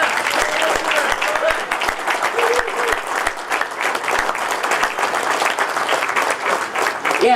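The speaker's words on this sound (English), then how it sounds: "I got you that applause you wanted." A crowd at the Polish American Center applauds a former Detroit Tigers pitcher honored for Polish Day, with dense, steady clapping filling the hall without a break and a voice faintly under it.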